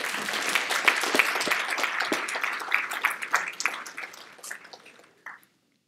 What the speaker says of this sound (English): another round of applause for your parents.